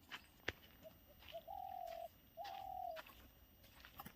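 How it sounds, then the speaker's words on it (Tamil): An owl calls near a fishing spot in rural woodland: two faint, drawn-out hooting tones follow a sharp click, set against quiet outdoor background with no talk. "அவளும் ஒரு பறவை இருக்காடா ஆந்தை தான் அவளு"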